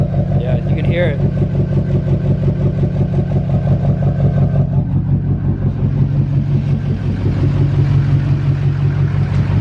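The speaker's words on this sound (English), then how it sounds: "show you how bad this thing idles" A work truck engine idles roughly and unevenly, a steady low rumble that stays loud and close for the whole stretch, with faint voice sounds mixed in.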